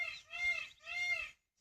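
A peacock gives two loud, wailing calls back to back, each rising and falling, fairly close and clear against a quiet background.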